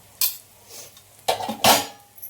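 Garam masala and spices being mixed in a pot: a few close, sharp scrapes and clinks of a spoon against metal in short bursts with gaps between them, and no talking.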